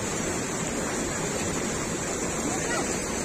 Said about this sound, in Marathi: इथे मस्त अशी खळखळ नदी वाहत आहे